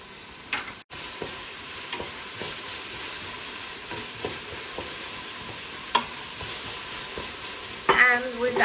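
Steady sizzling of food frying in vegetable oil in a pan for Lubia Polo, with faint stirring scrapes now and then and a brief clatter near the end, loud and continuous.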